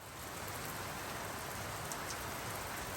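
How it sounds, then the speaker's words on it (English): Steady, even rain hisses down during an approaching winter lightning storm, a continuous close wash of drops with no thunder or voices. "we had this amazing storm with lots of lightning"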